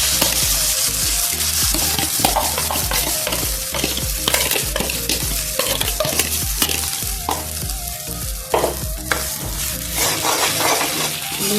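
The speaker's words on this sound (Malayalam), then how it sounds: "ഇനി നമ്മൾ നേരത്തെ തയ്യാറാക്കി വെച്ച മുട്ട ഇതിലേക്ക് ഒഴിച്ചെടുക്കുക." Beaten egg cooks into coconut in a frying pan, a loud, busy sizzle with constant stirring, rhythmic spoon scrapes and clinks against the pan running throughout, no talking.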